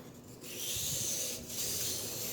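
A knife blade is drawn across a whetstone at roughly a 17 to 20 degree angle, giving a steady, close rasping scrape in two long strokes with a brief pause between them.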